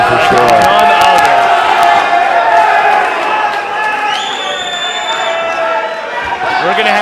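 A loud crowd cheers and roars continuously at a boxing event in Richmond, a WBC title fight, with whoops and sharp bursts rising above the din and voices talking over it.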